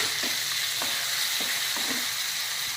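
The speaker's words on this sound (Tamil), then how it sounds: "வதங்கி வர்றப்போ நம்ம பச்சை மிளகாவும் போட்டுருவோம்" Green chillies sauté in hot oil in a pan for Chettinad chicken kurma, a steady sizzle with several soft spoon-stirring scrapes spaced through it, close and with no talk.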